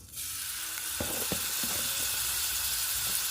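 Spoonful of garlic dropped into hot ghee for an Egyptian fatteh sauce, a steady loud sizzle and hiss with a few soft clinks of a spoon against the pan.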